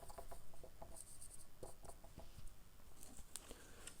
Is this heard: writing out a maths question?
yes